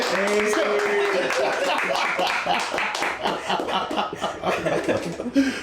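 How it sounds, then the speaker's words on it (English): A small group claps together with chuckles and laughter mixed in, loud and close, the clapping strongest early and thinning into scattered claps and laughing voices toward the end. "Let's clap it up for ourselves."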